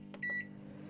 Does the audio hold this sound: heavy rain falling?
no